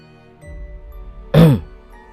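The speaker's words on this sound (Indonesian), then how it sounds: "aku mendengar seperti ada suara orang yang berdehem" A single short, close throat clearing, a rough guttural burst after a moment of quiet background.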